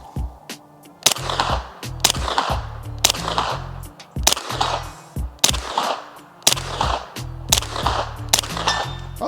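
Springfield Armory Kuna 9mm pistol-caliber carbine fired outdoors at a target 80 yards away: about eight sharp, loud reports in an irregular rhythm, singles and quick pairs, each followed by a short echoing ring.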